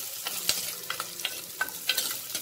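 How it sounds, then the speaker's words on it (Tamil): Chopped shallots and garlic sizzle in a hot pan for a Tamil ponnanganni keerai kootu, with a soft frying hiss broken by repeated scrapes and clicks of stirring at an uneven rhythm. "சின்ன வெங்காயம், பூண்டு நறுக்கி வச்சுருக்கோம் இல்லைங்களா, அதை வந்து ஆட் பண்ணிக்கிறோம். நல்லா வதக்கிக்கோங்க."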